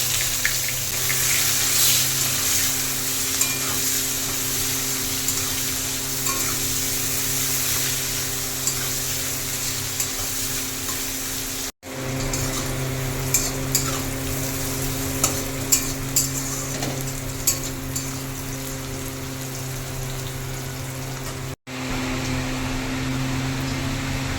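Chopped onion fries with cinnamon, cardamom, cloves and dried chilli for a Bengali mutton curry. A loud, continuous sizzle runs throughout with occasional stirring clinks, and the sound cuts out briefly twice.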